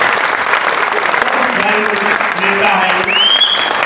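Loud audience applause at a training event in a palace hall, a dense steady roar of clapping, with a voice speaking over it.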